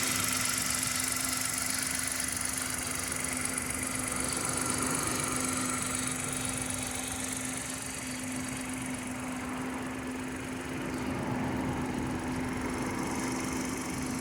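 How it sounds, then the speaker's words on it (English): A 2016 Hyundai i10 1.0 litre Blue Drive engine idling with the bonnet open, heard up close: a steady, smooth low hum with a constant tone and light mechanical ticking, unchanging throughout and without speech. "This is a 1 litre engine."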